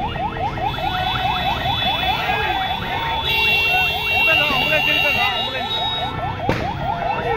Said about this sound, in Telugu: అంబులెన్స్ కూడా మనం దారిచ్చినాం ఫ్రెండ్స్